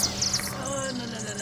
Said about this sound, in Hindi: चिड़िया की चीख सुनते ही मैं डगमगा गया